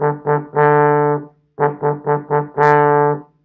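Two phrases of trombone notes, each a few short tongued attacks followed by a longer held tone, clear and close with no talking.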